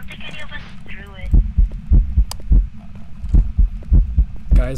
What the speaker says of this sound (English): I heard heartbeats, but I couldn't locate them.